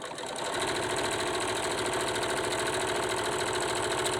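Sewing machine stitching bias tape onto a fabric face mask, a continuous close whirring run with a fast, even needle rhythm and no pauses.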